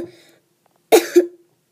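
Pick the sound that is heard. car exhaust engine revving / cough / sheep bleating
cough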